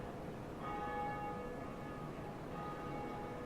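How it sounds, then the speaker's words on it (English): A great bell tolls in the Dark Souls video game, the Bell of Awakening ringing out with a single resonant strike that hums and sustains over a steady ambient background, with no voices. "So we got the first Bell of Awakening rung."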